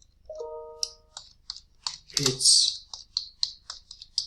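Quick, crisp clicks of keys being typed on a computer keyboard in irregular bursts, close up, with a brief spoken word near the start.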